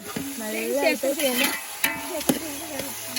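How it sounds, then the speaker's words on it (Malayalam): Onions sautéing in oil in a pan for Kerala-style chicken dum biryani, a close frying sizzle with stirring scrapes running under a person talking. "ആദ്യം ഓയിലൊഴിച്ച് നമ്മൾ സവാള വാട്ടി"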